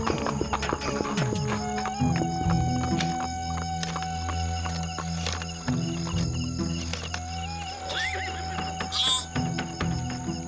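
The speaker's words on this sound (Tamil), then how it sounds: "நம்ம ஸ்டேஷன் முன்னாடி ஒரு குதிரை வந்து ஒரே அட்டகாசம் பண்ணிட்டு இருக்கு சார்" A horse stands in front of a police station, its clip-clop hooves loud and continuous, with a brief whinny-like cry late on under a busy, layered soundscape.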